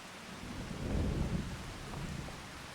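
Steady rain and a low rolling rumble of thunder in Farming Simulator 25, a dense wash of noise that swells briefly in the middle, with no talking.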